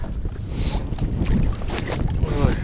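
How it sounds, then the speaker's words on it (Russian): Strong stormy wind buffets the microphone aboard a small fishing boat, with a steady roar, splashing water and a faint voice beneath the noise. "Ветер."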